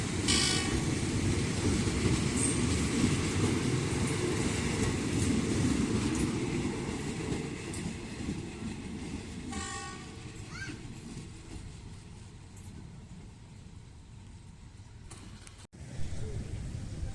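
Train 446, running from Hat Yai Junction to Chumphon, passes through Chumphon railway station with a loud, steady rolling rumble and wheel noise that eases slightly toward the end, ending in a brief sharp clunk.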